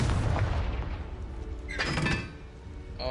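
A Confringo spell explosion in the video game Hogwarts Legacy bursts with a heavy boom and a rumbling tail, followed by a sharper crackling impact, with no speech over it.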